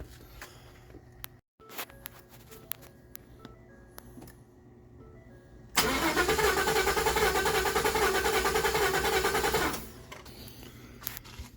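Starter cranking a 2014 Ford F150 with the 5.0L Coyote V8 during a compression test on a misfiring cylinder, a steady mechanical churn of about four seconds following scattered shop clicks.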